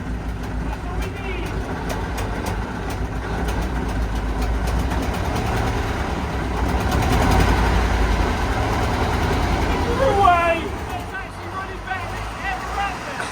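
The engine of an OT64 SKOT armoured car runs rough on three cylinders, a loud steady rumbling idle with a brief swell partway through, while people talk over it.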